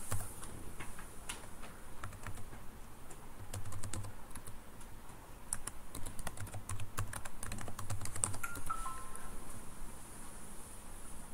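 Someone types a password on a computer keyboard, a steady run of close, crisp key taps over a quiet background with no talking.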